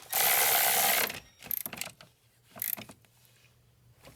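A socket wrench ratchets on a bolt under the hood of a VW Passat. A dense burst of rapid clicking comes first, followed by a few short, separate clicks and clunks, close and alone.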